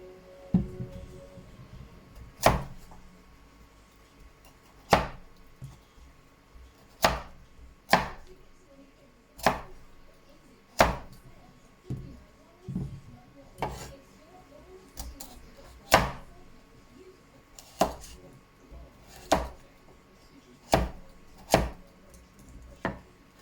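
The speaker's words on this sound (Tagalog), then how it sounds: "at natapos na natin hiwain ang ating mga gulay" A knife chopping vegetables for pinakbet on a cutting board: sharp, separate thuds at a slow, uneven pace, roughly one every second or two, close and clear over a quiet background.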